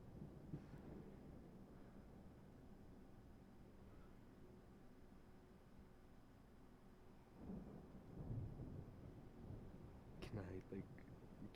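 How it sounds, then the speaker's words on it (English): Stormy ambience with low rumbling thunder rolling and swelling through, a few sharper cracks of lightning near the end, over a constant wash of rain and wind. "but the sound of lightning and thunder"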